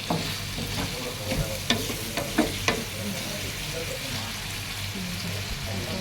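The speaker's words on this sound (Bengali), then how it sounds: "আমি চুলার জালটা ডিম করে দিব, আর এটা ফ্রাই হয়ে যাবে।" Liver fries in a pan on a stove with the heat turned low, giving a steady, close sizzle throughout, broken by a few sharp clinks of stirring.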